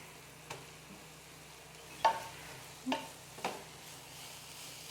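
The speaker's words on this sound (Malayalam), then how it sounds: "ഈ തേങ്ങയും ഇതെല്ലാം കൂടെ കിടന്നിട്ട് നന്നായിട്ട് വഴണ്ട് വരും." Grated coconut sautéing in a pan gives a soft, steady sizzle with a few sharp stirring scrapes and clacks spaced across it, quiet and close, with no talking.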